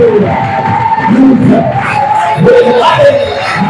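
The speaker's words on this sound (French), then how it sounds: "Acclame-le comme tu le veux." A church congregation shouts and cheers in acclamation during a worship service, loud and sustained with whoops and yells rising in bursts, a voice carrying over the crowd.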